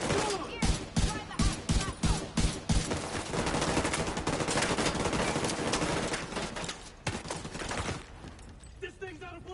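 Gunfire rattles in The Division 2, opening with a string of separate loud shots and then running into sustained, rapid automatic bursts that fade toward the end, with a voice heard briefly.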